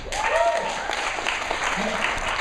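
A comedy club audience applauds in a burst of clapping mixed with cheers and crowd voices, loud and lasting the whole moment.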